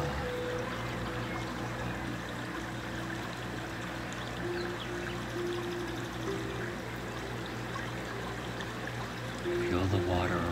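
Steady flowing water fills the scene, a continuous pouring and bubbling wash that stays fairly loud and even throughout, with a brief swell near the end.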